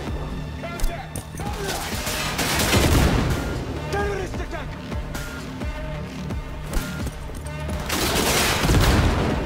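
Heavy firefight in Cyberpunk 2077, with dense bursts of gunfire, rattling shots and occasional booms layered over combat music, and people's voices calling out between the volleys.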